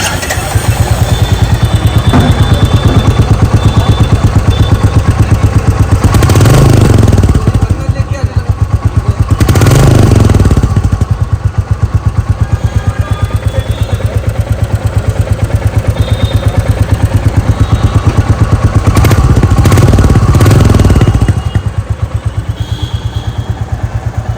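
A 2026 Royal Enfield Bullet 350 single-cylinder motorcycle engine idles close by with a steady, deep thumping beat, briefly revved a few times before settling back to its even rhythm.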